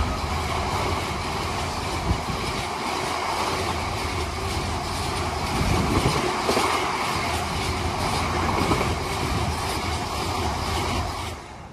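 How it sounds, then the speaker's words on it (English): A heavy freight train rumbles through Milton Keynes Central station continuously at close range, with rattling wagons and rhythmic clatter on the rails throughout. "the next freight train's passing through"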